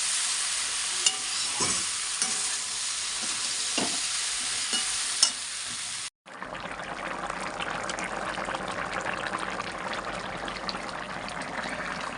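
Jackfruit curry stir-fried in a pan, with a steady close sizzle and repeated scraping stirs, the frying continuing more quietly after a short break.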